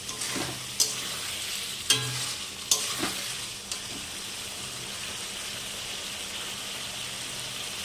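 Potatoes and spice paste with a splash of water fry in a pan, a steady close sizzle broken early on by four sharp spoon scrapes and knocks, then a continuous hiss.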